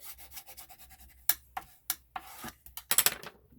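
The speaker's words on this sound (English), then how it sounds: "rub it really good" A tool is rubbed firmly along a score line on paper while folding a treat box, giving a series of close, scratchy strokes and taps that grow busier toward the end, with no voices.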